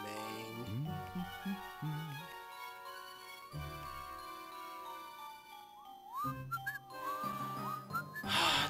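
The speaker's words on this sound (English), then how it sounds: "Just taking his time to whistle, huh?" A character whistles a wandering tune in the Over the Hedge DS video game, clear and up front over bright game music and effects, continuing for several seconds.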